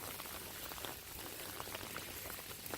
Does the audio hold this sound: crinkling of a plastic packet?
no